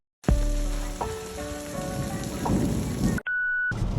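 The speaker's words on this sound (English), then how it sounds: "today is heavily rainy, so we can't drive fast" Heavy rain drums steadily and loudly on a Lynk & Co Z10 while it is driven, a dense hiss with faint tonal hums underneath. It cuts out abruptly near the end, leaving a lone steady tone.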